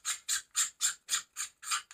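A threaded cap piece on a small refractor telescope is twisted off in seven quick, even scraping rasps, close and clear with no talk.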